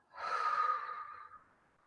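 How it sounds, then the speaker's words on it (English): A deep breath drawn in and slowly let out during a guided chakra meditation, close and soft, rising for about half a second and then fading away gradually, with no talking. "So breathe in and take a nice breath out."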